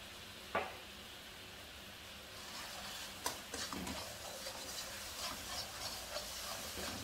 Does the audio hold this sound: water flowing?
no